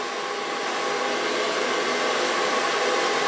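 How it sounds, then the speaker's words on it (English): A hair dryer runs steadily and fairly loud throughout, blow drying short platinum blond pixie-cut hair with a medium-large round brush, a constant broadband whoosh with no break and no talk. "Start blow drying, start on the longer side."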